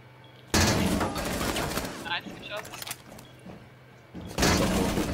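Video game gunfire crackles in two loud bursts of rapid shots at the start and end, with players talking over the action between them.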